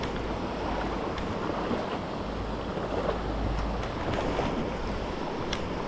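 The Warm River at its headwaters flows in a steady, broadband rush of water that stays constant and close with no voices over it.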